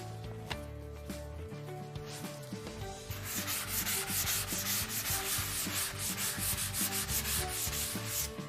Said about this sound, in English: Now that the Gyproc EasiFiller Finish is dry, I'm going to sand out any trowel lines to leave a smooth finish.